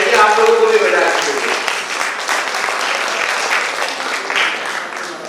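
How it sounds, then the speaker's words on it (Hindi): Sustained applause from a seated crowd at a BJP gathering honouring senior citizens in Rajendra Nagar, a dense, loud roar of many hands that tapers slightly toward the end. "इस बात के लिए आप लोग अपने लिए जोर से ताली बजाइए"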